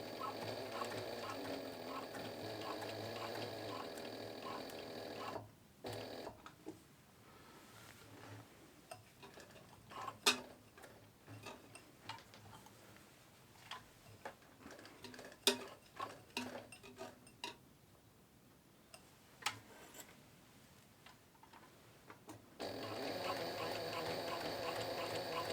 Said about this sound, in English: I'm just going to sew them on the post bed machine.